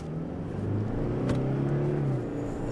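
A Toyota Prado J250 diesel SUV accelerating on a test track, its engine note climbing steadily in pitch as it pulls harder, with a brief rising whoosh partway through; close, fairly loud, and without talk.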